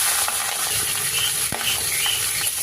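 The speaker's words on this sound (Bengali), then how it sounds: "তেল গরম হয়ে গেছে, মাছের মাথাগুলো দিয়ে দেবো।" Rohu fish heads frying in hot oil, giving a steady close sizzle with a few light utensil taps.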